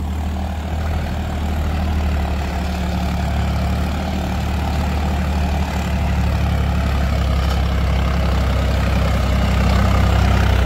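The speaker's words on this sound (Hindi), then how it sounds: "कहाँ डाल रहे हैं तो भी ट्रैक्टर चल रहा है" A Swaraj 744 4x4 tractor engine runs steadily with a deep, constant low rumble and hum, loud and close throughout, with no talk over it.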